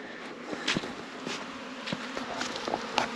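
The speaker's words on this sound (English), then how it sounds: "the bees are out, they're looking pretty good" Honey bees buzz around hives on an off-grid homestead in spring, a soft scattered hum of passing insects with brief louder fly-bys rising and fading over a quiet outdoor background.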